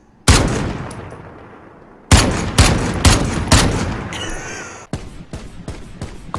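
Bursts of gunfire from Modern Warfare 2019, loud and close: a single sharp shot, then a fast cluster of several shots, then a sputtering run of lighter pops, each ringing out briefly.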